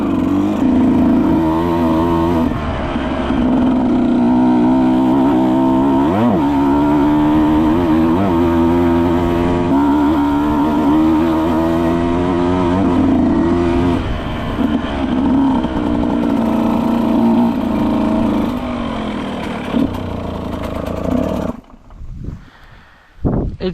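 Husqvarna TE 125 dirt bike engine riding up an overgrown mountain road: loud, close two-stroke drone held steady with rising and falling revs for about twenty seconds before cutting to wind buffeting.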